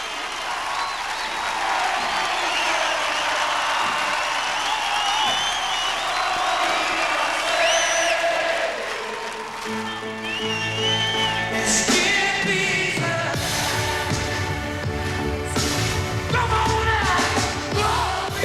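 A concert crowd at a show in Australia cheers and roars. Partway through, the crowd shifts into loud, sustained unison singing of a song that carries on over continued cheering.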